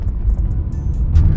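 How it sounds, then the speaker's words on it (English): A car approaches along a road at night, a low rumbling engine and tire drone that swells slightly louder toward the end, heard close and alone without talk. "there's a car coming at me"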